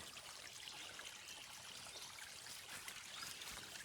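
A forest creek trickles softly and continuously, a faint, steady, distant wash of running water with no voices over it.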